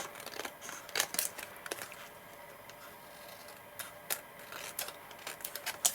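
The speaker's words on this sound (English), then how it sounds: "use our long bladed pair of scissors against the edge of our cardstock panel to trim off the excess" Long-bladed scissors trim the edge of a cardstock panel in a cardmaking session, giving a few quiet, crisp snips with soft paper rustles between, close but faint.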